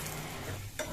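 Roasted gram fries in hot oil for oats chivda in a brief, steady sizzle, with a quick stir near the end.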